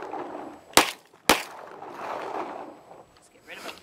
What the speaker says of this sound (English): I hope you were shooting at that bottom clay.